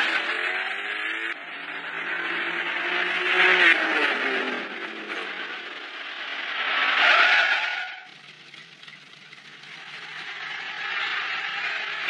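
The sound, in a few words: car engine running and tires skidding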